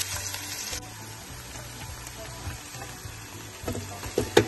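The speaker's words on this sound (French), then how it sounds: "Nous allons maintenant ajouter de l'oignon dans notre huile." Onion fries in palm oil for an okra sauce with meat and salted fish, giving a continuous close sizzle over a low hum. Louder crackles and clatter rise near the end.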